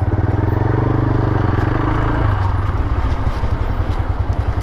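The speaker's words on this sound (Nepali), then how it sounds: "बाइक भएपछि यसरी उम्किनु पाउँछ।" A motorcycle engine thrums loud and close while riding a badly broken road near Kulekhani in Nepal, with a steady low rumble and rattling clatter.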